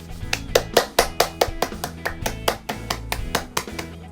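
Steady rhythmic clapping from a children's kindergarten worship group giving thanks, crisp claps close and loud over a soft held musical accompaniment.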